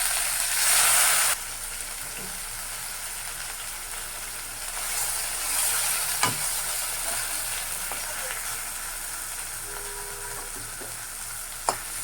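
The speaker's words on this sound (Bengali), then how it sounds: "সেই মাংসগুলো আমি একটু ভেজে নেব" Chicken meat fries in a pan with a low, steady sizzle, joined by a few scattered clatters and scrapes, close by but fairly soft.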